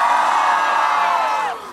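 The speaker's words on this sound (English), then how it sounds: "You can hear the crowd." A crowd of high school students cheers and whoops at a walkout protest at Northampton High School, a loud sustained roar of many voices that fades slightly at the end.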